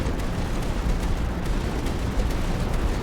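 Missile turrets in the tower defense game Tower Dominion fire in a dense, continuous rumble of overlapping blasts with small popping bursts, loud and steady throughout.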